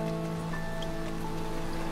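Steady rain falls in an IKEA lamp commercial, a soft, constant patter under sustained music tones, with no voices.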